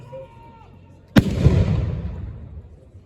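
A single cannon shot at a reenactment of the 1793 assault on Arlon, Belgium: one sudden, loud boom followed by a long rumbling decay, after a few seconds of quiet outdoor background.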